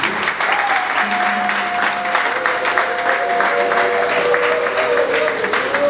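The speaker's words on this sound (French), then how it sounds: "nous vous prions de vous lever et que l'Assemblée puisse vous applaudir" A seated assembly stands and applauds an honored guest at a formal reception, a steady, sustained wash of clapping with a few faint voices underneath.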